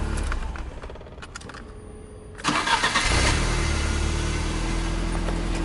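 A 1996 Fiat Tempra 16v cranks and fires up: after a quieter stretch with faint ticking, the starter catches and the engine bursts into a loud, steady idle close by.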